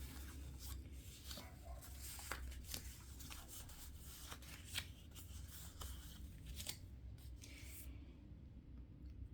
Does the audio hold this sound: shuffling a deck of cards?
yes